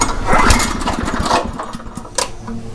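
A Craftsman rototiller engine fitted with a new carburetor runs close by, its small-engine putter loud and uneven, surging over a few seconds.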